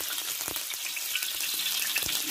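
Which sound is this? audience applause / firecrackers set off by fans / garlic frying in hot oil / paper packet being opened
garlic frying in hot oil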